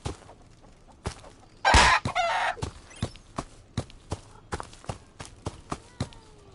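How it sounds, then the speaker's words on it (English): Chicken clucking in the video game Sir Whoopass, with a loud burst of squawking followed by a steady run of short, evenly spaced clucks or taps. "Kill the chicken."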